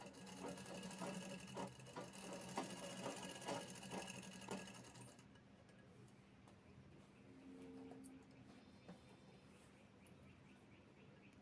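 Sewing machine stitching a sleeve onto a readymade dress, a steady fast rattle for about five seconds before it stops, leaving a quieter room with faint clicks.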